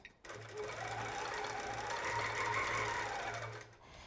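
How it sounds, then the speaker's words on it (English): A sewing machine quilting a baby quilt, its needle running in a steady close hum with a faint rhythmic thump, starting abruptly and stopping just before the end, with no talk. "Now your machines have what they call a point where it's going to sleep or they'll shut off if it doesn't feel like it's moving."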